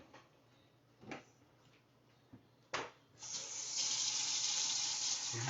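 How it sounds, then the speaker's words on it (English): Running tap water rinsing a pancake-batter spatula at a kitchen sink, preceded by a few light knocks and clinks, then a steady, loud splashing stream that continues to the end. "I gotta wash that one off."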